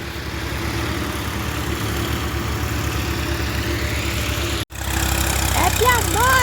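A tractor ploughs a field in the rain, its engine a steady, close, low idling drone that runs unbroken, cuts out for an instant near the end, then resumes.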